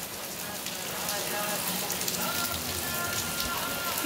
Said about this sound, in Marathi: पाऊस एक पडला मोठा, थांबला आणि आज चालू झाला बघा.